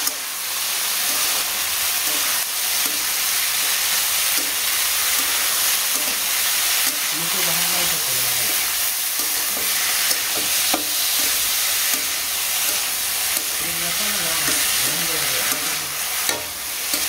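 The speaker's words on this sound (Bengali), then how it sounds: "নাড়াচাড়া দিয়ে ভেজে নই" Food with turmeric paste fries in a pan, a constant close sizzle and hiss broken by repeated scraping strokes as it is stirred.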